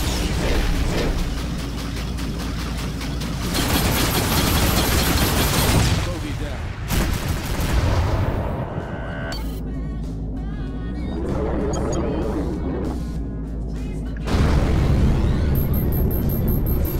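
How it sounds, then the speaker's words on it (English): Swarm missiles firing and exploding in the space combat game Rebel Galaxy, loud roaring bursts of launches and blasts that come in waves and break off between them, with someone talking over parts of it. "Switch missiles. Swarm missiles now."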